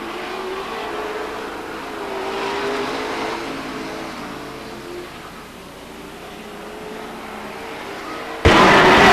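At Stockton 99 Speedway, a race car roars through the turn and slams hard into the wall, an abrupt loud impact ending a long, steady engine drone heard from a distance over crowd noise.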